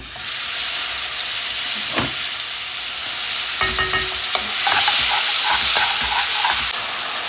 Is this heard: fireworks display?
no